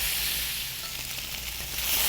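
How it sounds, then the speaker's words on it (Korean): Onions sizzle steadily as they are stir-fried in a hot oiled pan for spicy stir-fried squid and pork, a continuous close hiss with no talking. "양파를 넣어주세요. 숨이 죽을 정도로만 볶아주시고요."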